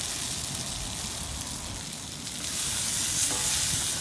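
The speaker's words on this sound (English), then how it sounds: "I don't know if you can hear that sound, but it sizzles really nice" Food sizzles steadily in a pan over a hot open fire at an off-grid outdoor cook, a continuous crackling hiss that swells louder near the end.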